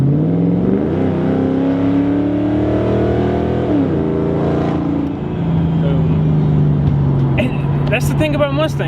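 A SN95 Ford Mustang with an aftermarket exhaust and automatic transmission revs hard nearby, its loud growl climbing and falling in pitch over several seconds before settling, with people talking over it toward the end.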